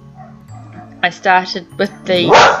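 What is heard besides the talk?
dog barking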